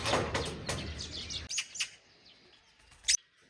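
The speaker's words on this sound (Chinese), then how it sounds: "隔壁的喜鹊" Magpie from next door chirping, with a short burst of bright calls at the start and then one sharp call near the end. The calls are close and fairly clear.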